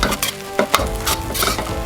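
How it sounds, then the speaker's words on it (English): Shrimp fried rice is stirred in a hot pan, a loud close sizzle broken by repeated scraping and clinking of the utensil against the pan. "Try and mix the rice in with the rest of the ingredients before you turn the heat back up to high"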